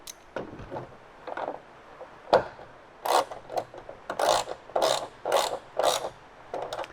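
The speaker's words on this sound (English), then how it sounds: "Just going to use a socket here to quickly snug this up." A socket wrench ratchets to snug a bolt with a nylock nut on a BMW E30 side skirt. Close, crisp bursts of clicking come in a rough series, scattered at first and then steady strokes about every half second.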